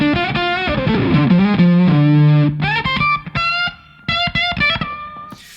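Electric guitar on the neck pickup through a DS Custom Audio Blender octave fuzz, playing a sustained bending line followed by choppy staccato notes high on the neck with a bright, buzzy octave-up tone, loud and alone.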